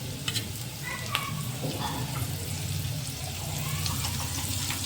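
Green garlic tossed into onion and garlic already sizzling in a pan, a steady close frying hiss with light stirring scrapes throughout and no talking.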